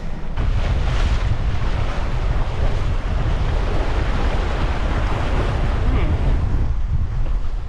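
Heavy wind buffets the microphone while water rushes and splashes steadily past a small sailboat moving fast on Moreton Bay, a loud, constant roar from start to finish.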